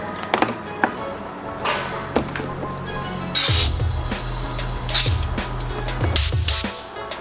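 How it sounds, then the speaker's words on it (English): Compressed air blasts from a rubber-tipped nozzle during a brake swap on a Nissan 350Z or G35, in a few loud, close bursts of hiss separated by pauses, with light clicks and clatter between them. "I'm going to use compressed air with this nozzle"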